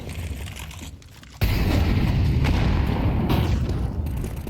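A grenade blast in the Counter-Strike 2 video game, a sudden loud boom with a heavy rumbling tail, set against quieter game noise from a pro league match.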